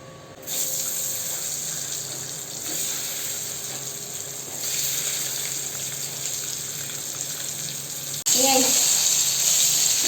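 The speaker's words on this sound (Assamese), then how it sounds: "তেলখিনি গৰম হ'লে কণীকেইটা দি মই এইকেইটা ফ্ৰাই কৰিম অলপ ৰঙচুৱাকৈ।" Eggs fry in hot oil with a steady, even sizzling hiss that swells louder near the end, with faint speech in the background.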